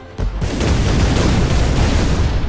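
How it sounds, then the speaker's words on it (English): A fireworks shell bursts in the artillery game Shellshock Live: a sudden loud boom followed by a sustained crackling, rumbling roar that fills the rest of the moment, with no talking over it. "Is that the sparkler again? It's fireworks."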